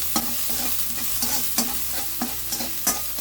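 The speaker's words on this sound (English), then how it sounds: "Now this one really needs to fry well," White spring onion pieces fry in a pan, a close, steady sizzle broken by about half a dozen sharp scrapes and clacks of a spatula stirring against the metal, with no talking.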